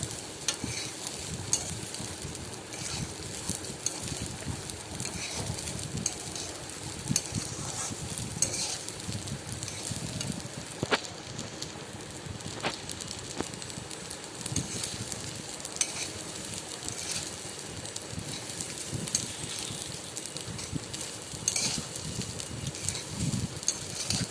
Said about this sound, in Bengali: চালটা দিয়ে লো ফ্লেমে ছ থেকে সাত মিনিট আমি ভেজে নেব